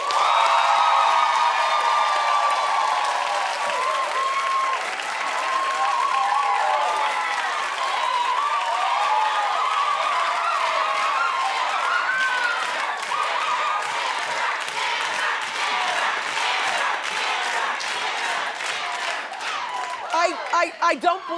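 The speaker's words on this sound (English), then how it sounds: "Clap if you would rather Amber." Studio audience at a television talk show claps and cheers in a show-of-hands poll, a dense, steady wash of applause and crowd noise that runs throughout, with sharper individual claps toward the end.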